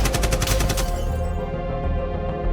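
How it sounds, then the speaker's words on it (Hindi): A rapid burst of gunfire rattles out loudly at the start, then fades into a lingering ringing echo. "और एक के बाद एक कई राउंड गोलियां चली"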